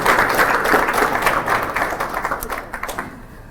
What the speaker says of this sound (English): Please clap for Mr. Gichana.